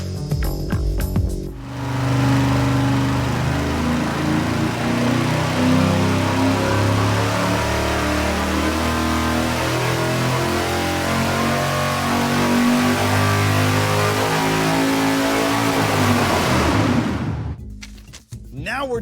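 An engine on a dynamometer makes a full pull, roaring loudly and steadily at close range for about fifteen seconds before cutting off abruptly, with brief voices at the start and end.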